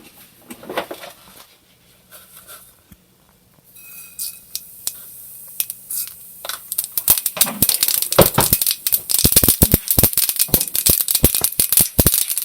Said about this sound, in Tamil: கடுகு நல்லா வெடிச்சுட்டு